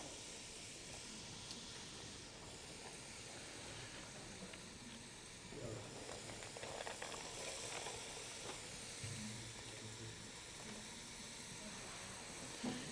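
Onions, carrots and celery for a mirepoix hitting heated oil, giving a faint, steady sizzling hiss that grows busier about halfway through, with soft scattered crackles and bumps.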